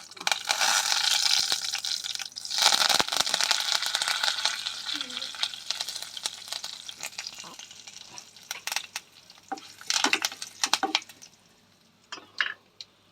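Curry leaves hit hot tempering oil with a loud burst of close sizzling and spattering that gradually fades into softer crackles, scattered stirring clinks and taps.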